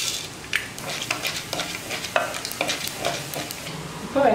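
Chana dal, urad dal and cumin crackle in hot oil with mustard seeds while a spoon scrapes the pan in repeated strokes, sharp sizzling pops rising over a steady fry.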